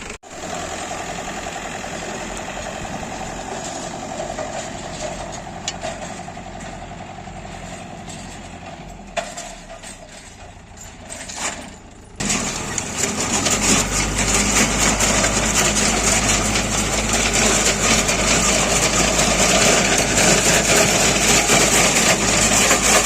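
A DTZ 404 (5404K) tractor with a Polina 2.4 seeder idles with a steady diesel rumble, then the engine revs up and runs louder and heavier for the second half, with no talking.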